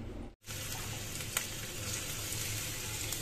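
Food frying in a pan on a home stove gives a steady close hiss and sizzle, broken by a brief silent gap near the start, with no talking.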